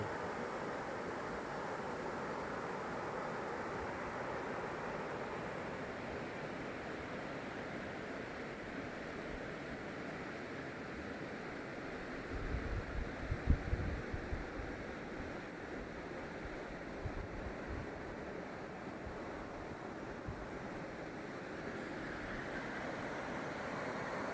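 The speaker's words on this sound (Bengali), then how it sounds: "রায়ডাকের খুব কাছে দাঁড়িয়ে জলের গান শুনছি" Raydak river water flowing near the Bhutan ghat, a steady broad rushing wash that stays constant throughout, with a few low thumps partway through and no voices.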